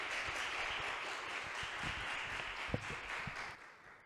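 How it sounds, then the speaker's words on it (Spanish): A hall audience gives a steady round of applause to welcome a philosophy speaker at an academic conference, dense clapping sustained for about three and a half seconds before tapering off. "Vamos a darle un caluroso aplauso de recibimiento a Diego"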